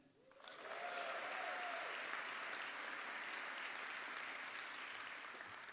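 Sustained applause and cheering from an audience filling an auditorium at a downtown community address, swelling quickly and holding steady at full volume for several seconds before easing slightly.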